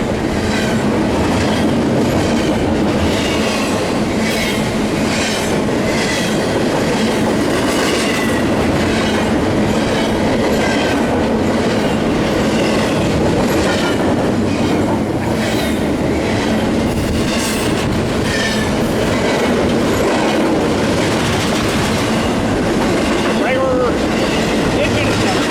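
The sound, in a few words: train passing on rails, Fullerton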